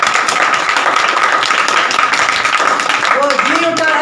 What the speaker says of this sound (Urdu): ہمارے یسوع مسیح کے لیے ہم تالیاں بجائیں.